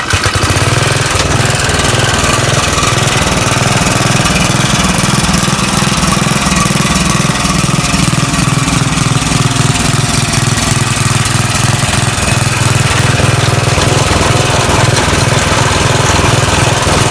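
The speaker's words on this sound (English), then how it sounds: "Let's go ahead and start the mower and see" A Snapper riding lawn mower, under repair for heavy blade vibration, runs steadily and close by, its engine a loud continuous rumble with a pulsing beat that lasts the whole stretch.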